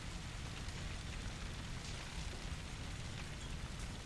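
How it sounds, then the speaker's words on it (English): Rain falls steadily in Red Dead Redemption 2, a soft, even hiss with no breaks that stays quiet and far off, with no talking. "And it's raining."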